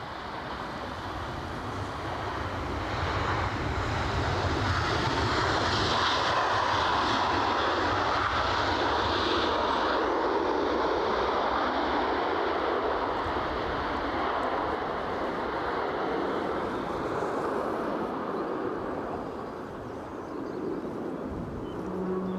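A fixed-wing airliner roars at Edinburgh Airport on a windy day, a broad sustained jet rumble with wind buffeting, steady and moderately distant throughout.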